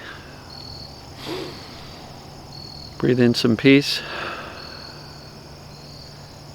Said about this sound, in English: Listen to those bugs and the birds.